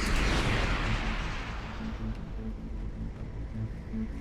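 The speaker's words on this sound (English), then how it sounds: "What is the range of these missiles?" A missile launch and explosion in the space game Starcom gives a loud initial boom that decays into a rumbling tail, with faint repeated low tones beneath.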